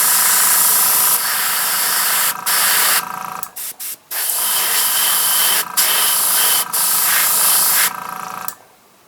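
A steady, loud airbrush hiss spraying thinned Tamiya paint, about 60% thinner to 40% paint, with brief pauses where the spray cuts off and restarts.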